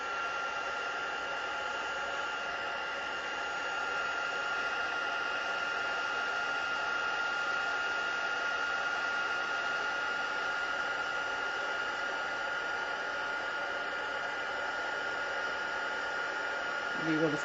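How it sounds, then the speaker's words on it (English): A handheld heat tool blows a steady, close whooshing hiss with a thin tonal whine, running continuously while embossing powder melts on a handmade card. "I'm gonna grab my heat tool here"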